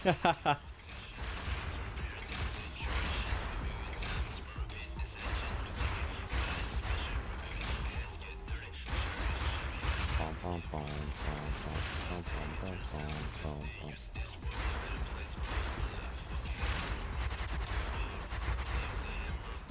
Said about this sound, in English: Everything exploding now?